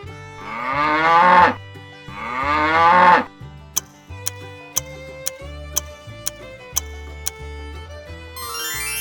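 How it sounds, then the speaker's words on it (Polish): A cow on a farm lets out two long, loud moos close by, followed by a steady ticking clock-like rhythm over a looping musical backing, with no talking. "To krowa."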